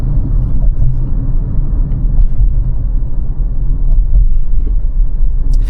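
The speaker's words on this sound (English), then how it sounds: "you can hear the boom boom, and that sound is very damp and very quality feeling" A Toyota Hyryder's suspension thuds over road expansion gaps, heard from inside the cabin as a steady low rumble with a few dull, damped thumps, and no talking.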